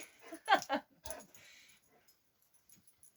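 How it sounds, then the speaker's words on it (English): A dog gives a few short, high whimpers and yips close by around the first second, with a faint clatter and soft background noise after. "She is a very good guard dog."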